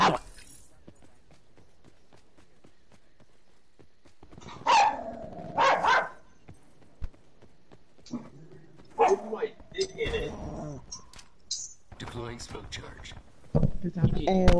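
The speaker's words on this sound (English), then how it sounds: "Don't you dare bark at me again." An old dog barks in several short bursts, close by, mixed in with people talking over it and quieter stretches between.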